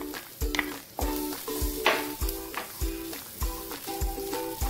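Grated coconut stirred into roasted nuts in a pan: a quiet sizzle with a regular rhythm of scraping strokes and light clinks of a spoon against the pan, roughly one every half second, close and with no talking.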